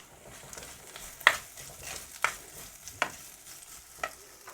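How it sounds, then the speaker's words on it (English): Onions, ginger and green chilies sizzle and fry in a pan with a steady crackle, punctuated by several sharp clinks and scrapes of a utensil stirring at irregular intervals. "while this is frying away"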